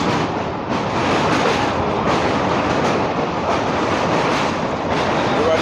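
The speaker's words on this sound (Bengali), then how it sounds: "তো ট্রেন ছেড়ে দিচ্ছে চলো উঠে পড়ি" A train pulls away and rolls on toward the Kolaghat bridge, its steady loud rumble and rail clatter filling the whole stretch without pause.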